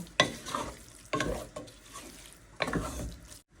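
Minced meat with carrots and peas is stirred in a pan, giving three scraping strokes with a soft sizzle between them, close and fairly quiet.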